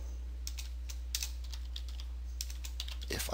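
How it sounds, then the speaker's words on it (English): Quick, irregular clicks of typing on a computer keyboard, light and close over a constant low electrical hum. "If I can type."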